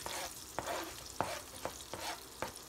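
Garlic and onion sauté in a pan, a soft continuous sizzle with about six sharp, evenly spaced scrapes of a stirring spoon close by.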